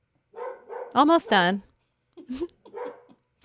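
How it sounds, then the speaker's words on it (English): A pet dog barks at home in a quick burst of several sharp barks, with a person speaking briefly before and after. "My dog's still losing it."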